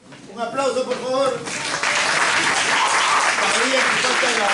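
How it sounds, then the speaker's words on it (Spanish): An audience at a school event breaks into applause, starting under a group cheer of voices and building into loud, sustained clapping. "Un aplauso, por favor."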